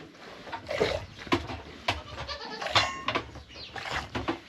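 A goat bleats repeatedly in a barn during evening milking, several loud, close calls scattered among clattering and shuffling noises.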